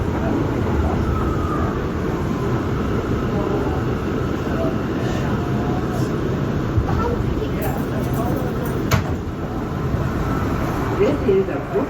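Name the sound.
R179 Brooklyn-bound C local subway train running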